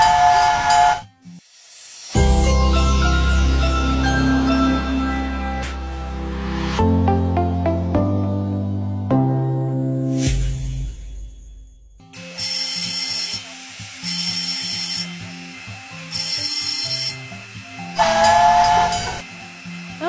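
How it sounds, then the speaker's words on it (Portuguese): Steam locomotive (Maria Fumaça) on the Tereza Cristina railway in Tubarão, Santa Catarina, blowing loud, sustained whistle blasts with hissing steam, mechanical clanks and harmonic tones, several separate whistle bursts near the end. "o apito da Maria Fumaça nos transporta no tempo"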